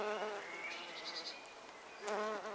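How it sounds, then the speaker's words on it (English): Bees buzz around flowering comfrey plants in a garden, a soft, wavering hum that swells and fades as insects pass close, quiet and without talk. "full of bees"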